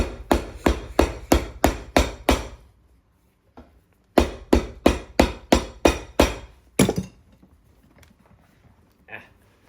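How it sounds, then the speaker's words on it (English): Two rapid bursts of sharp hammer blows on a Tecovas boot sole during resoling, about seven strikes each, ring out close and loud, followed by a couple of softer taps. "I can put downward pressure as I'm hammering"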